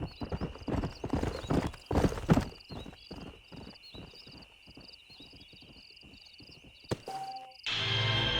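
In Red Dead Redemption, a horse's hooves clip-clop in an uneven gait, with a whinny near the end, over a steady background hum.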